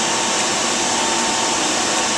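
A Xeikon 5000/6000 printer's developer clear-out unit spins up during its clear-out procedure, giving a loud, steady broadband whirring roar like a vacuum that holds constant throughout.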